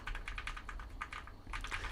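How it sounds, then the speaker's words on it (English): Steady clatter of keys on a computer keyboard fitted with upgraded keycaps, recorded on a FiFine K690 USB microphone in cardioid pickup pattern, quick irregular strokes close to the microphone, heard alone without any voice. "I'm just right now hitting some keys and talking over to see how the Cardioid pickup pattern picks up the sound in the background"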